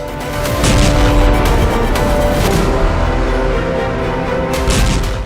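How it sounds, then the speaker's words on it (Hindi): Loud, rumbling explosions boom nearby, one blast rolling into the next with crackling bursts over a deep, sustained roar. "दुश्मन पर इजरायल का तीसरा धमाका।"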